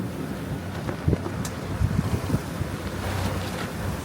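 Wind and water slosh steadily around a new aluminum sailboat in storm-driven waves, a continuous broadband rush with a few louder surges and wet slaps, no voices.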